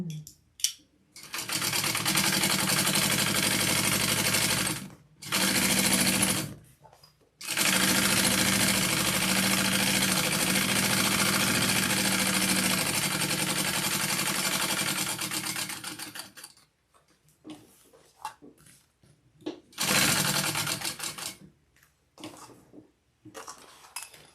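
A sewing machine bastes fabric for a crossbody bag, running in long steady whirring stretches with brief pauses and stops, then small clicks and handling noises as the work is adjusted.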